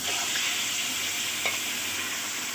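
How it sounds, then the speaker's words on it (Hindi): Mutton frying in hot oil in a kadai for Peshawari namkeen gosht, a steady close sizzle with a brief stirring scrape partway through, no speech. "अब इसको हम इस ऑयल में हल्का सा फ्राई करेंगे"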